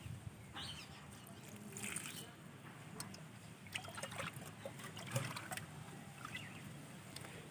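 Vegetable peel water fertilizer poured onto potted rain lily plants, a soft steady trickle and dribble of liquid with light splashes, close by and fairly quiet over faint background noise.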